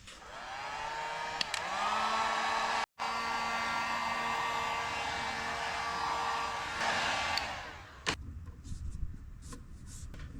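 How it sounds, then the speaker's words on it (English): Heat gun blowing a loud, steady hot-air roar while shrinking heat-shrink tubing on wiring of an 1989 Chevy K1500 truck, with brief handling clicks and a short cutoff before the blower winds down near the end. "I am going to use a heat gun to shrink that around it"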